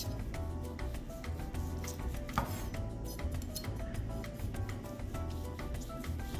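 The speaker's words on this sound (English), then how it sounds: "And now we're gonna slice it. We're gonna use a fork and a really sharp knife." A really sharp knife slicing through a roast leg of lamb held with a fork, a steady run of soft, quick cutting and scraping strokes at low volume, close and continuous.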